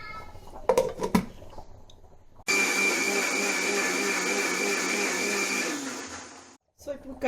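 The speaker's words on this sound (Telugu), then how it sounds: "సో ఇప్పుడు దీన్ని మనం మిక్సీ పట్టేసుకోవాలి." A kitchen mixer grinder whirring loudly and steadily for a few seconds while grinding cumin and cloves into curry paste, starting abruptly after some clatter and cutting off sharply.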